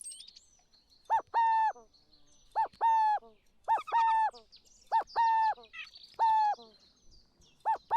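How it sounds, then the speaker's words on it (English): A burrowing owl call plays in the Wingspan board video game, a clear series of repeated two-part chattering notes in short bursts, fairly loud, with brief quiet gaps between phrases. "The Burrowing Owl."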